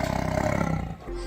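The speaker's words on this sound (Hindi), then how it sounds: "बाघ जब दहाड़ता है" A tiger gives a deep, rumbling roar that fills the short moment loudly and close, then fades off.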